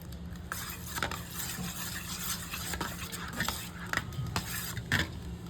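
A spoon stirs a mixture with curry leaves into curd, giving soft, steady scraping and swirling close by, with a few light clinks against the bowl and no talk.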